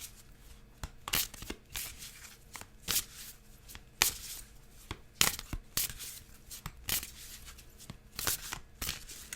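Tarot cards shuffled by hand during a love reading, with soft riffling bursts and quick slaps repeating in an irregular rhythm, close and fairly quiet, with no talking.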